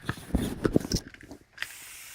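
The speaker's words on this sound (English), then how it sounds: "I'm gonna spray this and then" Short bursts of hissing spray as borate wood treatment is applied to bare wood in a bathroom renovation, a few quick pumps close by, ending in a brief pause and one last faint spritz.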